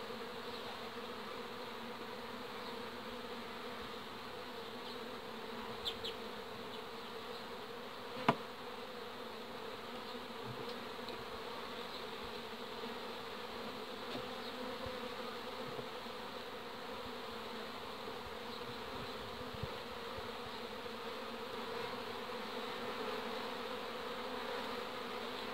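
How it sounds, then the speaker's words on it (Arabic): Honeybees hum steadily around an open hive during a colony split with frames taken from different hives, a continuous close buzz that fills the whole stretch with a few brief clicks and no talk. "فيه نحل خرج وفيه نحل بدأ يخرج"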